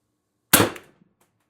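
A single sharp shot from an MR TR50 Torpedo air rifle with upgraded firing pin and bolt spring cracks out close by, with a brief tail and a faint click after.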